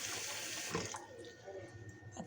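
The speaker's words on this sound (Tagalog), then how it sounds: "Ayan, punuin lang to natin ng tubig" Water runs from a tap into a container being filled for an egg freshness test, a steady close splashing gush that shifts in tone as the level rises.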